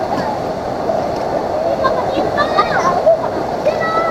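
A constant wash of flowing river water at Sta Lucia Mystical River, Mt. Banahaw, fills the clip, a steady rushing noise with faint voices and chatter mixed in the background.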